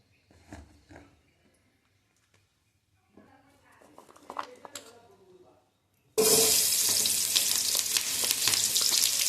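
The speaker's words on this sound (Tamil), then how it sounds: "நீ தேவையானதை தக்காளி வெங்காயத்தை வதக்கிக்கலாம்." Tomato and onion hit a hot pan in a village-style home kitchen for chicken kulambu, bursting into a loud, close, steady sizzle and fry after a few quieter moments of handling sounds and brief talk.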